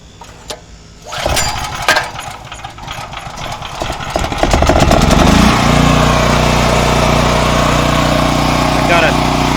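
A PowerMate 7500 generator is cold started: clattering pull and sputter come first, then the engine catches and settles into a loud, steady running drone close by, with a voice talking over it.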